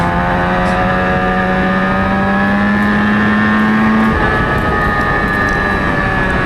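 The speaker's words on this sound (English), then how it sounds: "They should be firing their way up onto the front straight away. Here they come" Formula 4 race cars scream past on the front straight of a circuit, a loud continuous engine drone with rising and falling pitch and one note dropping sharply as a car passes, with no voices.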